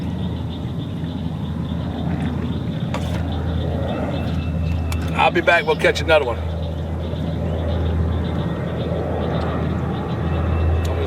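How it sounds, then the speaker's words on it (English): An airplane drones overhead above a fishing spot, a steady low engine hum running through the whole stretch, with someone talking briefly midway. "Now here comes a damn airplane"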